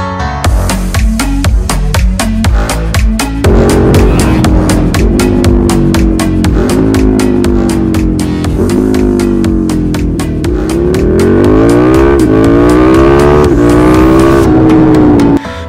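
A KTM Superduke 1290 motorcycle on a dyno runs through loud, sustained revving, its engine pitch climbing and dropping in repeated sweeps, with a steady rapid firing pulse throughout and no talking.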